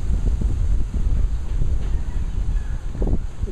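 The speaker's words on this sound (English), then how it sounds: "It's a little windy." Wind gusts around a hammock at a coconut palm inn, a loud steady rush buffeting the microphone with faint rustling beneath and no talking.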